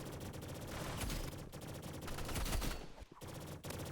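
Rapid gunfire in the Roblox shooter Rivals: a continuous stream of fast automatic shots, fairly quiet and in the background, with a brief gap near the end.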